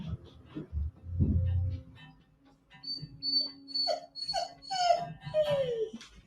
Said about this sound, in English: The dog is obviously stressed out and can't seem to stay in one place for long.